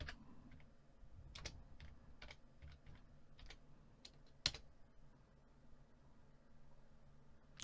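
Someone types on a computer keyboard while entering an account code in accounting software. The key clicks are faint and irregular, with a short burst of taps and one sharper keystroke near the middle.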